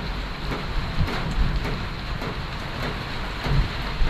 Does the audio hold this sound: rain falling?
yes